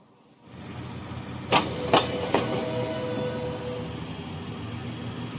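US passenger train running at 160 km/h in Transport Fever 2, rising from silence into a steady rolling rumble, with three sharp clanking knocks in quick succession as it passes.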